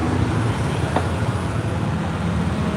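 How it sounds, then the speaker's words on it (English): A steady roar of city street traffic in downtown Cleveland, with cars and buses passing in a dense, continuous wash of road noise. "Look at all the traffic."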